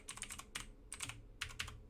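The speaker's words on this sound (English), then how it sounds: "And then you type in your password." A password typed on a computer keyboard: quick clusters of close, crisp key clicks in short uneven bursts, with no other sound.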